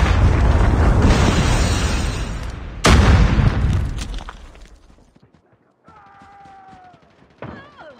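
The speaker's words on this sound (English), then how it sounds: "Predator missile inbound." A predator missile explodes on the Nuketown map in Call of Duty: Mobile with a loud, rumbling boom and a second sharp blast that fade out, followed by brief electronic game voice callouts.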